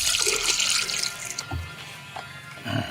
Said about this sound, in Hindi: ये रहा पानी।